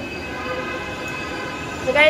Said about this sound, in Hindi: ट्रेन हमारी आ गई कि जा रही है?